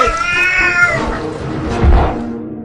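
A cat lets out a long, loud meow close by, followed by a second drawn-out wailing cry.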